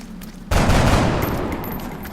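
Burst of gunfire from soldiers shooting in the XCOM tactical game, starting abruptly and sustained as a loud, dense volley that slowly tails off.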